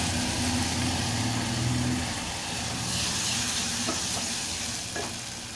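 Freshly ground paste dropped into a hot pan for a fasting thali curry, giving a loud, dense close-up sizzle that holds steady for several seconds with a low hum underneath and a couple of light clicks near the end.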